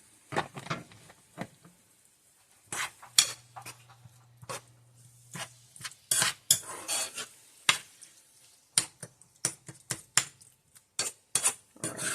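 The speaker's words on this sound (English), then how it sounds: "I have an actual spoon here to mix it better than with the spatula." A spoon stirs sloppy joe mix in a pan, giving irregular bursts of scraping, clinking and wet sizzling, some clustered quickly and others spaced out, close and fairly loud with short quiet gaps between.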